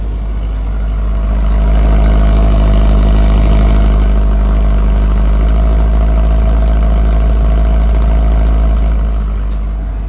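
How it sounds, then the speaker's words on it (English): A 2022 Toyota GR86 boxer four idles steadily in sport mode, its exhaust giving a deep, even, continuous rumble that holds at a constant level throughout with no voices. "let's hear the exhaust note"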